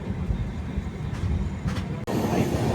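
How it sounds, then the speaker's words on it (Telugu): A MEMU express train rushes past on the adjacent track, heard from inside a moving train: a loud rumbling roar of wheels and carriages with a sudden brief gap, then the rush continues. "ఇప్పుడు వెళ్ళింది కదా బండి,"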